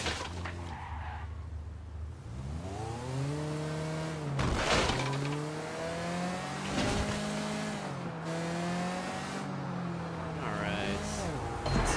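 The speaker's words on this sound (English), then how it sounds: "This car is awful!" A car driven in Sleeping Dogs, its engine revving and rising in pitch through gear changes with tire squeals and skids, with someone talking over it.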